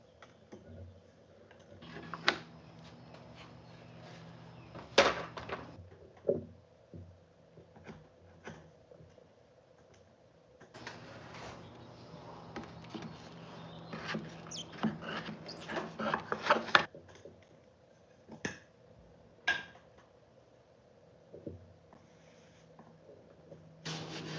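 Brad nails being prised out of a wooden piece with a hammer and flat screwdriver in a woodworking shop: scattered scraping, rubbing and sharp metallic taps, quiet and intermittent with busier stretches.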